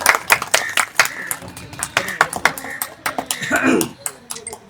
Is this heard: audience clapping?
yes